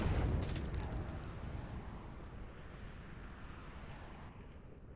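A deep artillery boom in the strategy game Line War, a single low explosion at the start that rolls off into a fading rumble, fairly faint and distant.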